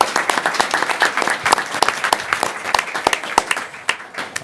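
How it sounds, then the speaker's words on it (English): Applause from a council chamber audience at a city mayor and commission regular session, steady dense clapping for several seconds with no talking over it. "All right, round of applause."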